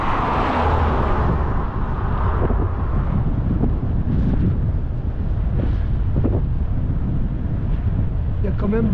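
Car driving in third gear on a road, steady engine and road rumble heavily buffeted by wind noise, with some speech over it.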